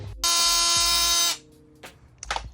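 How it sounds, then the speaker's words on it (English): A power grinder shapes body kit pieces for a widebody 2019 Toyota Corolla, running as one loud, sustained, high-pitched whine for about a second, then cutting off, followed by a few faint knocks and a short scrape. "and then we can match it up with a little bit of grinding"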